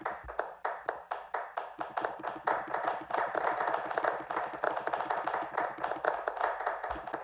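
A church congregation applauds together during a Sunday service, starting as spaced rhythmic claps and swelling into dense sustained applause, loud and close with no voices over it.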